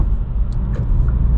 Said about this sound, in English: so we can just hear how it is to drive this Veloster N on the highway